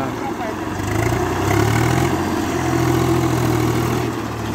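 A Swaraj 45 HP tractor engine runs steadily nearby with a low, even rumble that rises slightly midway, without talk.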